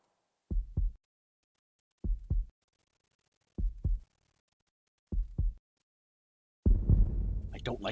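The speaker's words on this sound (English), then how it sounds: "I don't like hearing heartbeats in video games." Heartbeat effect from the Chrono Cross video game, with four paired lub-dub thumps evenly spaced and loud and close, then a burst of broader noise at the end.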